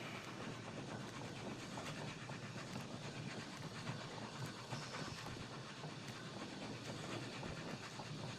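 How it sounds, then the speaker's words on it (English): Trains in the video game Oddsparks rumble along in a dense, continuous roll of rattling clatter and hiss that stays at an even level throughout, with no voices. "Oh, trains."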